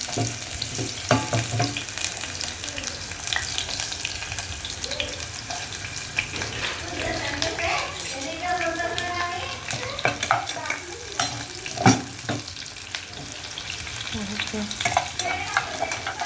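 Onion sizzles as it is dropped into hot oil to temper dal (lentils) in a home kitchen, with a steady frying hiss broken by stirring scrapes and a few sharp clinks.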